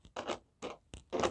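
Several short, scratchy bursts of small scissors cutting open mail packaging at close range, irregular and quick, with brief pauses between snips.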